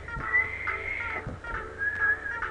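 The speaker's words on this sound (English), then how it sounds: "I think he's trying to like whistle or something." A character whistles in the video game Dragon Quest Heroes: Rocket Slime, with a thin, wavering tone rising and falling across a few seconds over a low game soundtrack.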